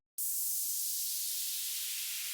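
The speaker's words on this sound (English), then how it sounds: "I turned up the downlifter to create a big release of energy once the drop hits." A white noise downlifter in a future bass track enters abruptly and stays loud, a broad bright hiss whose lower body gradually thins and drains away over a couple of seconds, heard on its own.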